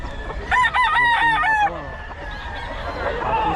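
Gamecock rooster of the pumpkin sweater type, a two-year-old bull stag, crowing once loudly and close in a long harmonic call, followed by quieter background chatter and farmyard noise.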